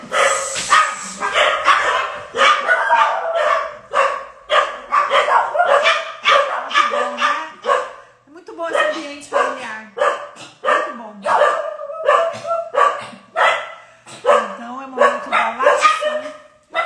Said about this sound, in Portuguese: Ó, cachorros latindo, gente.